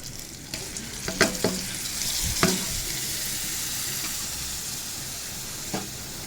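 Sliced bitter gourd sizzles in hot oil in a pan, a steady loud frying hiss broken by a few sharp clacks of a spatula stirring, with no talking.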